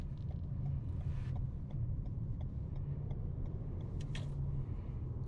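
A 2021 Toyota RAV4 Cruiser in sport mode on a freeway, a steady low engine and road rumble heard from inside the cabin, with a few faint clicks and no talk.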